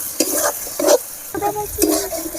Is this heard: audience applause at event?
no